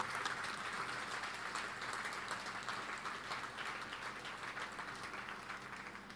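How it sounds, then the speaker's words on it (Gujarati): An audience at a Swaminarayan satsang recitation in Godhra applauding with raised hands, a steady, even wash of many hands clapping at moderate distance that holds throughout with no talk over it. "હાથ ઊંચા કરી તાળીઓના નાદથી વધાવો બરાબર."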